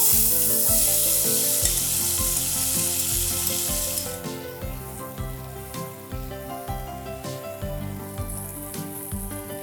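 Sliced potatoes drop into a hot mustard-seed tempering for batata kachrya bhaji and hiss in a loud, steady sizzle. Scraping stirs then break in rhythmically and the frying eases slightly.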